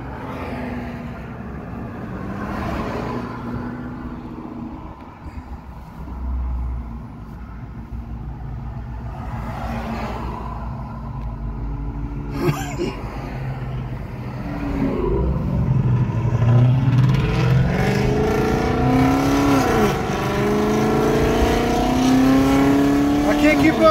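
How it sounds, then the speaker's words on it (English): A loud Ford Mustang with a Coyote V8, towing a jetski, accelerates with rising engine roar that grows louder toward the end, while voices talk over it at times. "Watch him race his Mustang."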